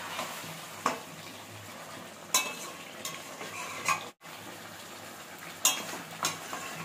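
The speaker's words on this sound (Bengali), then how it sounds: "তারপরে এখন হচ্ছে মটন কষানো।" Mutton being braised (kosha) in a kadai, stirred with a metal spoon that gives a few sharp clinks against the pan over a low, steady frying hiss, close and fairly quiet with no talk.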